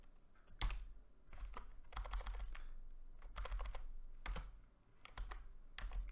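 A command typed on a computer keyboard during network router setup: close, soft key clicks in uneven bursts with short pauses between them.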